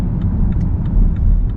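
Steady low rumble of a BMW 3 Series F30 316d diesel cruising on a motorway, with constant road and engine noise and faint periodic ticks over the drone.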